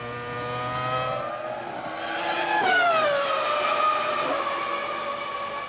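McLaren Formula One car with Mika Hakkinen driving in qualifying at the 2000 Australian Grand Prix, its high-pitched engine screaming as it approaches and passes, the pitch dropping as it goes by.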